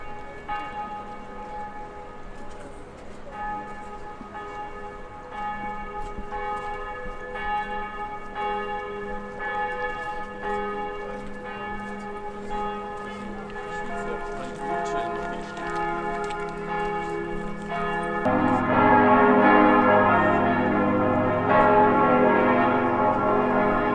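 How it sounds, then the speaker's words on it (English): Church bells ring out steadily over a Swiss city, with many overlapping tones. Around the end they swell louder and fuller, with no voices. "You can hear the church bells ringing"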